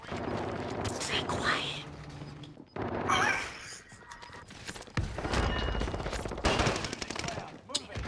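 Gunfire crackles through a Call of Duty Warzone match in repeated bursts of fairly loud shots mixed with busy game noise, while several players talk over it.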